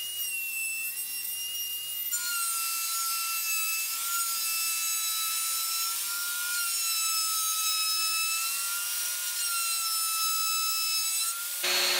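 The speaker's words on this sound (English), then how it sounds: "making numerous shallow cuts equally on both surfaces to creep up on the final thickness" A hand saw making shallow cuts across a wooden board to shape a tenon, a continuous rasping stroke-after-stroke sound lasting throughout, steady and close.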